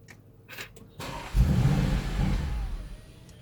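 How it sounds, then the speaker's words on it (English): An Audi RS6 engine with an immobiliser fitted cranks and fires at close range, roaring briefly before dying out, with a faint mechanical click beforehand. "What will happen is the engine will start and immediately cut out."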